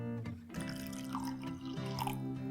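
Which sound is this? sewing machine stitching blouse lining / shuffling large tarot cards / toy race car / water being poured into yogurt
water being poured into yogurt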